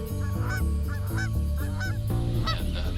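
Canada geese honking loudly and repeatedly at a nesting site while defending against a coyote, several harsh honks in quick succession over a dense, noisy background.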